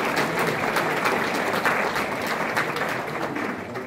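A crowd at an association's general meeting and policy briefing at a city hall gives steady, dense applause throughout, evenly loud with no pauses.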